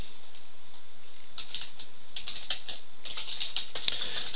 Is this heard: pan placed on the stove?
no